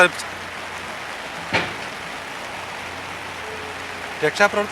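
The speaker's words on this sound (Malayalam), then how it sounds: "രക്ഷാപ്രവർത്തനത്തിന് വലിയ തടസ്സം ഇപ്പോൾ ഈ ശക്തമായ മഴ സൃഷ്ടിക്കുന്നുണ്ട്" Heavy rain pours steadily during a flood rescue operation at Chooralmala, a dense continuous hiss with a few brief knocks and clatters near the end.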